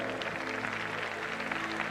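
A church congregation claps along as people take their seats, a dense steady wash of applause mixed with a held keyboard tone, continuous and moderately loud throughout.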